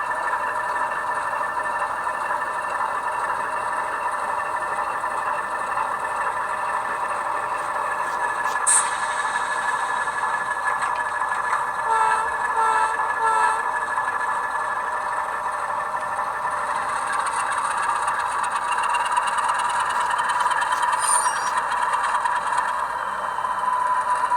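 An Alco S2 model locomotive fitted with a LokSound DCC sound decoder runs at slow speed, with a steady synthesized diesel engine drone and faint rattles playing continuously from a small speaker.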